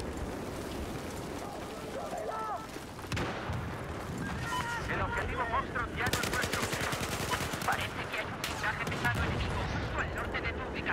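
Battlefield 4 gunfire on the Golmud Railway map, with rapid automatic bursts and scattered shots crackling through most of the clip. A player talks over the shooting.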